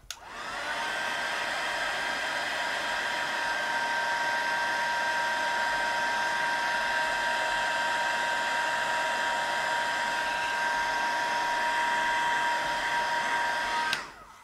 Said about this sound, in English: So just give it a helping hand with the heat tool.